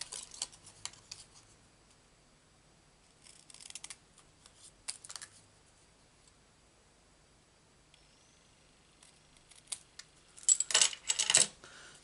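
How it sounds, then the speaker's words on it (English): Paper snips trimming around a stamped card shape, scattered soft clicks and snips with short bursts of cutting and a louder rustling flurry near the end, close in an otherwise quiet room. "get our paper snips and just cut round, leaving a nice delicate border"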